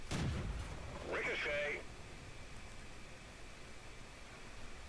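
A tank cannon shot in a tank combat video game, one loud boom at the start followed by a short whirring mechanical tone and a long fading rumble, with a voice talking faintly.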